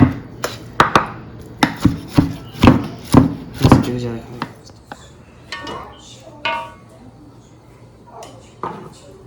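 A knife chops cooked beef rib and chuck meat for birria on a board, giving a run of about a dozen sharp, close, irregular chops that thin out toward the end, with a voice speaking in between.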